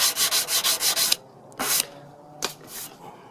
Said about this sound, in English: Take your little block and just sand it on that corner.